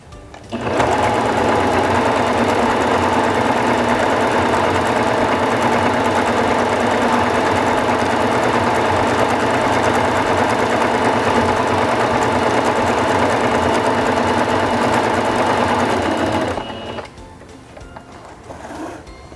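A Singer Fashion Mate 5560 sewing machine runs steadily sewing a decorative vine stitch, a loud continuous mechanical hum and rapid needle clatter lasting about sixteen seconds before stopping abruptly, leaving a quieter background.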